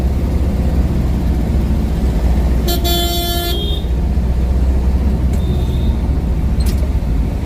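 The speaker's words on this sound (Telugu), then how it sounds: "ఎక్కడ ట్రాఫిక్ ఇది?" Busy road traffic with cars and buses rumbles loudly and continuously, while a car horn blares for about a second midway and shorter honks follow further off.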